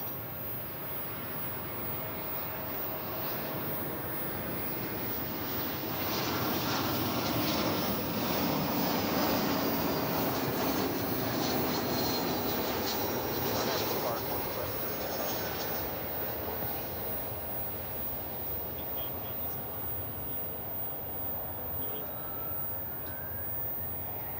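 A passenger plane arriving from Tucson at Dallas Fort Worth airport gives a broad, distant engine roar. The sound swells through the middle and then slowly fades, with no voices.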